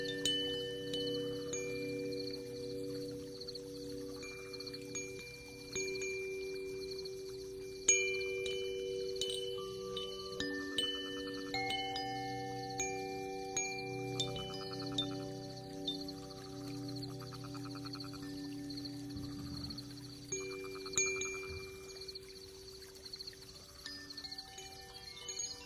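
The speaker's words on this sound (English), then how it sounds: "That's the other chimes, huh?" Metal chimes ring during a handpan live stream, with scattered bright strikes and long sustained tones that overlap and decay, played alone at a moderate level with no talk.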